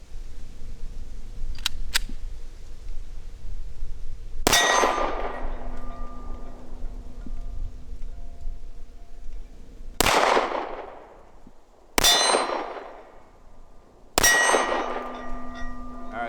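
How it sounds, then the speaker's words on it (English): Four loud, sharp gunshots from a pistol fitted with a mini red dot sight fired at painted targets in a snowy outdoor setting, spaced a few seconds apart, each ringing out with a decaying metallic echo, preceded by faint clicks. "Let's just take some shots here."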